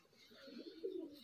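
A pigeon gives a soft, brief coo, faint and close, in a quiet setting.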